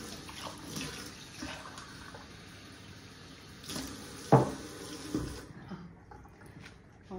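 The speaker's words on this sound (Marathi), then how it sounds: "पाणी ॲड करते आहे." Water poured into a bowl of momo dough ingredients in a home kitchen, a quiet trickling splash that briefly swells midway, with faint clinks and handling noises before it stops.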